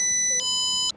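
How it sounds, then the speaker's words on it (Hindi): A synthetic mobile phone ringtone plays two short bursts of layered high electronic tones, sustained and steady between them, fairly loud and close with no talking. "वर्मा जी जरा देखिए आपका मोबाइल।"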